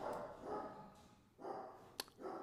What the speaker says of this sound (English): I really apologize for the dogs. The dogs are going crazy today